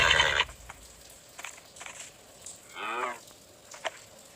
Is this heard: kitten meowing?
no